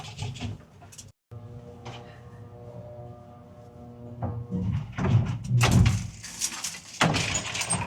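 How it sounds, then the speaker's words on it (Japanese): A door is pulled open as a couple heads out of a hotel in Mexico City, giving a bump and clatter around the middle, then brighter, louder outdoor noise and movement follow, with no clear talk. "このドアを引いて出ます。"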